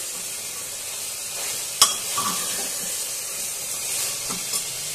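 Chicken pieces sizzle steadily in a pan over a raised gas flame, with a single sharp scrape of the spoon and a few soft stirring clinks over the constant hiss.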